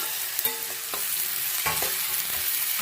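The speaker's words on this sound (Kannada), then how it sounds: "ಒಂದು ದೊಡ್ಡ ಟೊಮಾಟೋನ ಕಟ್ ಮಾಡಿದ್ದೀನಿ ಅದನ್ನು ಸೇರಿಸ್ತಾ ಇದ್ದೀನಿ" Chopped tomato hits the hot chicken curry pan with a steady sizzle and frying crackle, punctuated by a few sharp stirring clinks and scrapes against the pan, close and fairly loud throughout.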